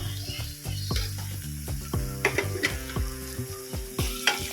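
Chicken curry with onions sizzles loudly in a pan after salt goes in, while a spoon stirs it in repeated scraping strokes over a constant close frying hiss.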